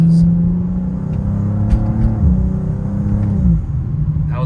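A tuned 2024 BMW M2 pulls at light throttle. The engine gives a steady, deep exhaust drone that rises gently in pitch, heard close and alone with no talk.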